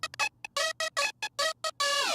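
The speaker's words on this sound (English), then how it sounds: "using Ableton's beat warping to give it a weird glitchy feel" Glitchy wavetable synth sound made with Ableton beat warping, chopped into short stuttering bursts with abrupt gaps, ending on a longer sustained tone that bends downward, fairly quiet and alone.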